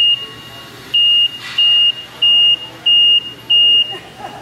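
Tractor warning beeper sounding on startup, six evenly spaced high electronic beeps about half a second each, loud and close over a low engine hum.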